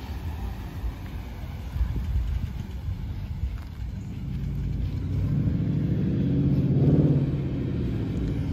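Dodge Charger SRT8 V8 engine rumbling nearby outdoors, a low steady idle that swells into a rev around the middle and peaks before settling back, no talking.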